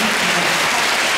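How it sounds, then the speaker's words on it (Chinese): A hall audience at a singing contest final applauds the performers, a dense, even wash of many hands clapping at once, loud and sustained for a brief moment. "我哋再俾一次鼓掌俾你哋。"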